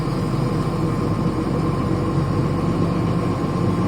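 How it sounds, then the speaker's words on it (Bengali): Steady traffic rumble at a bus stand on a highway in Comilla, with engines idling and running close by as a continuous, loud low drone with no talk. "কুমিল্লার গৌরীপুর বাস স্ট্যান্ড।"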